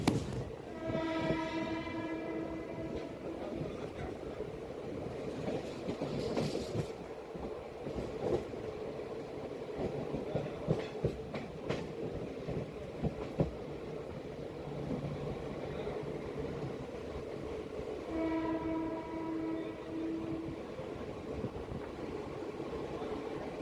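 Heard from the rail journey toward Pune, a train rumbles along the tracks while its horn sounds twice, at the start and again near the end, with steady clattering running underneath.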